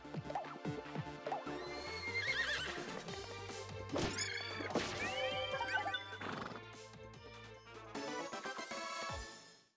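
A horse in the Miitopia video game gives loud, shrill neighs and whinnies over upbeat game music, with clip-clop hoofbeats and crashing impact effects, the sound fading out at the end.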